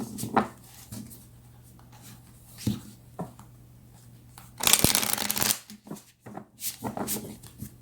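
Tarot cards being shuffled by hand, first as a few soft taps and riffles, then as a dense, close flutter of card shuffling near the middle, followed by shorter bursts.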